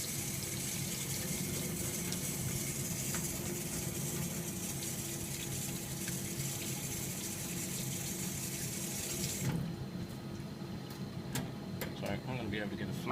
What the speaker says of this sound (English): give it a little bit of a rinse under the cold tap, just get rid of all of that